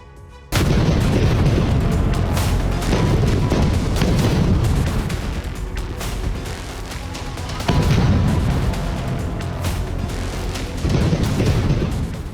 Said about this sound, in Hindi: यह गाजा में इजराइल का वो बारूदी एक्शन है जिससे गाजा की जमीन थर्रा गई है।